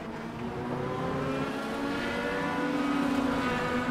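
A pack of IndyCars in a racing video game at Donington drones and whines steadily, pitches shifting slightly as they run together, loud and continuous.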